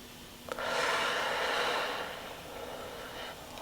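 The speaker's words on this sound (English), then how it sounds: "And breathe out." A person slowly breathes out in a long, soft exhale, close and steady, during a timed breathing exercise before eating.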